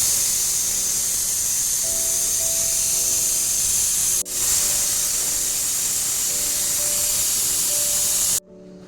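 A pressure cooker holding marinated raw jackfruit lets out a loud, continuous hiss of escaping steam with faint tonal whistling, broken by one sharp click midway before it cuts out abruptly.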